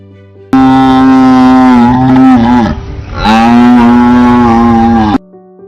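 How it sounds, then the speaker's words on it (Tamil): A single long, deep moo from a water buffalo, loud and close, rising and holding with a brief break in the middle before trailing off. "எருமை ஒரு பெரியதும் வலிமையானதும் ஆன வீட்டு பிராணி."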